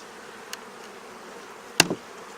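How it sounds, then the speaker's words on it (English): Faint buzzing of honey bees feeding on sugar hums in the background, broken by one brief sharp knock near the end. "How are so many bees getting in there?"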